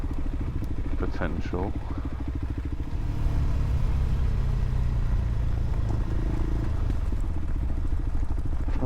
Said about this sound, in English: That might explain why there's hundreds of motorbikes going down here.